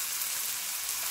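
Fresh shrimp frying in a pan for a stir-fry, a steady bright sizzle filling the whole short moment with no talk.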